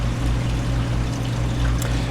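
Water flows steadily through an aquarium UV sterilizer unit, a soft continuous trickling hiss with a low hum underneath, close and even throughout.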